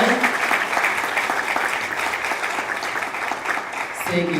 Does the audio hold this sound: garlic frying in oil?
no